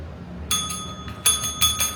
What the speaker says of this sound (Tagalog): Bakit ganito yung bell ko? Parang namamaos na.